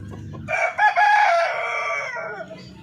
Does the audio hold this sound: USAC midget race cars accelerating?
no